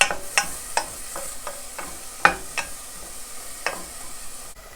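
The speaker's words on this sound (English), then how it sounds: "Add the 1/2 cup of chopped onion and a little pinch of salt to get that softening up." Half a cup of chopped onion with a pinch of salt cooks in olive oil in a medium pot over medium heat, a quiet sizzle punctuated by a string of distinct spoon scrapes and taps.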